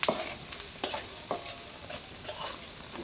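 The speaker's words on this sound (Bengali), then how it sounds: "পেঁয়াজ রসুনটা ভালো করে বাদামি কালার করে ভেজে নেব" Chopped onion and garlic fry in hot oil left from frying potatoes, a steady close sizzle broken by several scraping stirs of a spatula in the pan.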